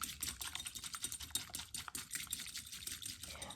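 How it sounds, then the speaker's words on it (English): A small whisk beats a cinnamon sugar nut coating mixture until frothy, giving rapid, faint, close ticking and clicking strokes against a bowl in a steady, quick rhythm. "So it says whisk that up."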